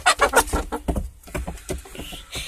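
Backyard chickens cluck in a steady run of short, loud calls close by, with no talk over them.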